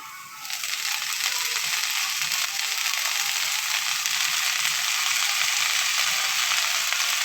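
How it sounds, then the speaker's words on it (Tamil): Red stem amaranth greens and small onions are stirred in hot oil in a pan, a loud, continuous sizzle that rises within the first half second and holds steady, with faint rhythmic scraping beneath. "சிவப்பு தண்டு கீரையை போடுவோங்க. இதை நல்லா கிண்டுங்க."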